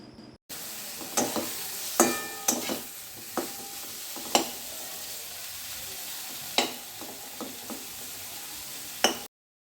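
Lote fish (Bombay duck) cooking in a pan as a spicy dry curry, a steady sizzle with scattered sharp clicks and knocks of a spatula against the pan, close and moderately loud.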